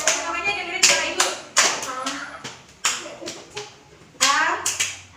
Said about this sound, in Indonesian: Kalau Ibu bilang huruf B, kalian tepuk di tengah